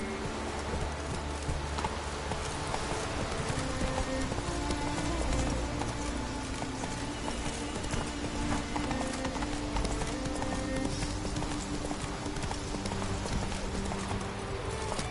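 Horse hooves galloping in The Witcher 3, a steady fast clip-clop rhythm running close and continuous throughout, mixed with game ambience and a low music bed.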